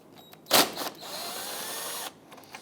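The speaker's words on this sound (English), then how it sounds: "Using a 10mm socket, we want to go ahead and start by loosening and removing this upper bolt right here." A power socket tool works a 10mm bolt on the bumper of a 2008–2013 Infiniti G37: one sharp burst, then a steady whir of about a second and a half that cuts off cleanly.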